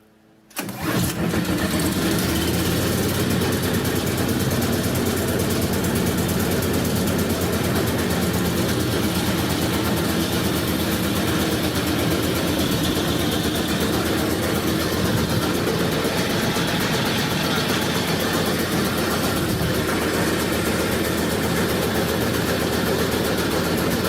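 A Predator 301cc engine fitted to a Snapper 8260 snowblower starts abruptly after a short silence, then idles loud and close with a steady, even drone that holds for over twenty seconds, with no voices.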